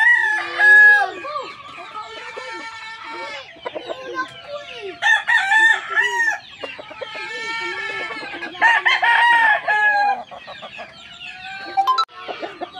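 A Sweater gamecock rooster crows repeatedly at close range, loud harmonic cock-a-doodle-doo calls mixed with clucks coming in several bursts over a quiet background.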